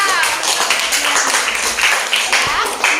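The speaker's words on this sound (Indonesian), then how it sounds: "Tepuk tangan dulu ya." A classroom of children clapping together, a loud, close, dense patter that runs throughout, with voices mixed in.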